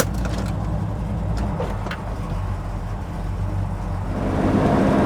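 A 1968 Chevrolet Chevelle SS hot rod cruises along the road, heard from inside the cabin as a steady, dense engine and road rumble that swells slightly toward the end.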